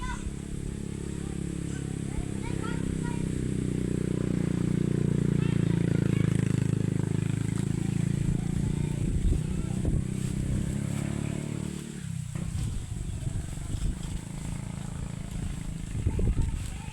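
A motorcycle engine drone swells as it passes nearby, peaking midway and then fading, followed by clattering and rustling close by at an outdoor family Christmas party.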